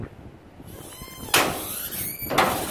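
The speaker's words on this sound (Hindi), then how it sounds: "कौन कर रहा है ये दरवाज़ा?" A door creaks and knocks as it swings by itself, with two sharp thuds about a second apart standing out over steady background noise.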